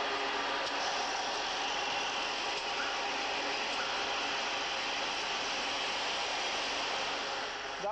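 Semi-automatic weaving looms run in a cotton mill, a loud, steady, dense mechanical roar with rapid clatter filling the space continuously and no one speaking.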